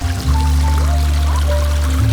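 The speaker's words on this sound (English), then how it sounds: "It's simply a privilege to have flowing water close to your property or onto it." Flowing water of a clean stream running in stages by a property in the Oravița area, a steady close pouring rush that continues alone without a break.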